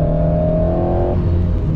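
Alpine A110S with an aero kit accelerating on the Clastres race circuit, a loud, steady engine note that climbs in pitch, then briefly dips as if shifting before pulling on.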